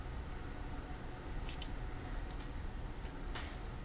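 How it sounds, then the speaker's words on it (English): Scissors cutting through paper card for a pocket planner insert, with a few faint, brief snips over a quiet hiss. "let me go ahead and cut"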